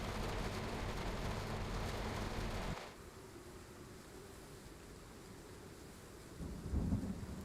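Thunderstorm in the train-driving game Train Sim World 5: a heavy, steady roar of rain and rumbling thunder that drops abruptly to quieter rain, then a low thunder rumble swells near the end.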